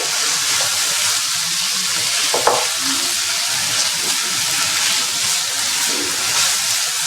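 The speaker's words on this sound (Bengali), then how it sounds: "তো ভেজিটেবলটা অলমোস্ট সটেড হয়ে গেছে, আমাদের চপসিও মোটামুটি রেডি।" Vegetables for American chop suey, seasoned with soy sauce and green chili, sauté in a pan with a loud, steady sizzle and occasional scraping stir clicks, close by and with no voices.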